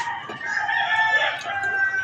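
A rooster crows nearby, a drawn-out call lasting a couple of seconds, with other chickens faintly clucking underneath.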